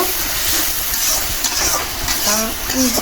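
Fish frying in a pan with oil for a rustic Bengali village-style dish, a loud continuous sizzle with occasional clinks of a utensil stirring the pan.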